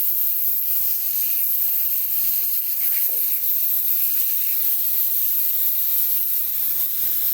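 Smash burger patties sizzle on a Blackstone griddle with a constant, even hiss of frying fat, close and unbroken, and a faint scrape of a spatula partway through.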